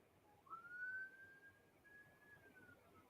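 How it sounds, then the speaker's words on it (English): A single wailing emergency siren rises and holds a long tone as a vehicle passes at a distance, faint and thin against a quiet background. "I can hear the siren."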